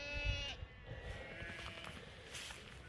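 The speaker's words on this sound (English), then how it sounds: "You dirty French sheep." Sheep bleating in the French countryside, a few calls close by over steady outdoor background noise with no talk.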